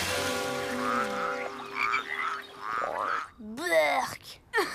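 In a French cartoon a toad croaks: after a stretch of animated voices, a series of loud, gurgling, rising croaks comes in short bursts near the end.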